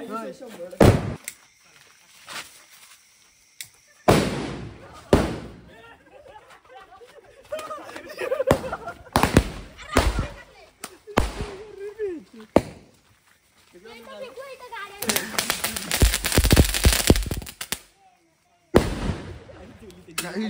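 Diwali night firecrackers exploding in a village: loud, sharp bursts arrive in irregular clusters, including a sustained crackling barrage, with people talking in between.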